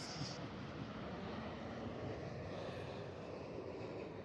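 A Qantas airliner passes overhead as a steady, broad roar of jet engine noise, distant and fairly quiet, holding level throughout with no talk.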